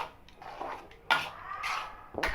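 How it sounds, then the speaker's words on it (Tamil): A spoon clinks and scrapes against a pan while melting sugar is stirred for sago laddu, a few distinct metallic taps and scrapes, close and fairly quiet. "நல்லா கிண்டிக்கிட்டே இருங்க விடாமல்."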